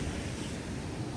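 Strong waves wash onto a beach shore below tall cliffs, a dense, steady roar of surf mixed with wind noise, with no voices.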